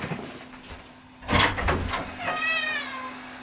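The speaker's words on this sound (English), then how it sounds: "My cat wants to come in here, so I'm gonna let my cat in." A door or drawer clunks and slides, then a cat gives a clear, rising meow close by.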